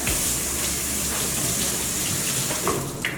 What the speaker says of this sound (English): I'll rinse this underneath the tap.